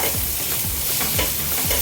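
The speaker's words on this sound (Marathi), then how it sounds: "आता तवा गरम झालेला आहे आता आपण याच्यावरती कपडा फिरवून देऊ" A damp cloth wiped across a hot tava before rava dosa is poured, giving a loud, close, continuous sizzle with repeated swishing strokes.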